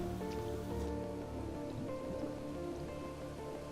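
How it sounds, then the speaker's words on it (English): Rain falling in the video game The Planet Crafter, a soft, steady hiss of drops at low volume that continues evenly without pause. "Oh, it's raining."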